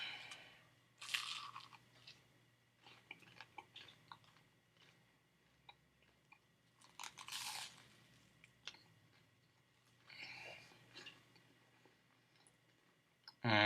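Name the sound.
chewing a flaming hot nacho bacon cheeseburger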